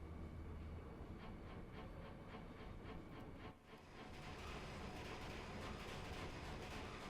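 A train rolls along steadily in Final Fantasy 8, a continuous rumble with rhythmic clatter and a brief dip midway before the noise swells again, no voices.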